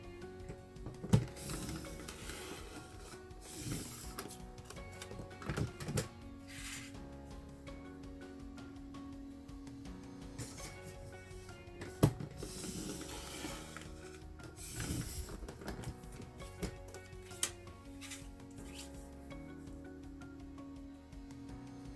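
A paper trimmer slicing 3.5-inch squares from cardstock, several sharp swishing cuts spaced apart at close range, with handling clicks and rustles between them.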